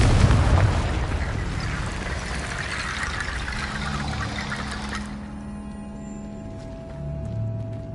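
A Confringo blasting curse explodes in Hogwarts Legacy, a loud roaring burst that swells and slowly fades into a rumbling, crackling tail.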